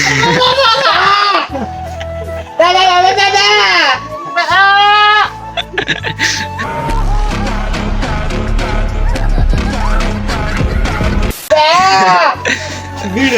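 Goat bleating, several wavering cries near the start, around four to five seconds and again near the end, loud and close amid speech and background noise.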